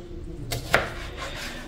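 A knife slices a cucumber into thin rounds on a kitchen board, giving two short crisp cuts close by, the second sharper and louder, over quiet room noise.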